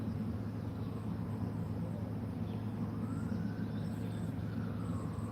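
Emergency vehicle siren wailing at a distance, a faint rising and falling tone drifting over a steady low hum of traffic or room noise, with no talking.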